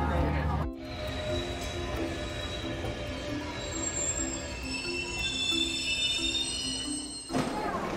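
A slow train in Daliangshan, China rolls steadily along with long, high-pitched wheel squeals ringing over a continuous rumble, loud and close, before the sound cuts off near the end.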